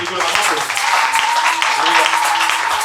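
A church congregation applauding, a dense, steady wash of many hands clapping at close range with voices mixed in, loud and continuous throughout.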